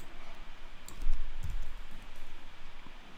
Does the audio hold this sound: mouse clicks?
yes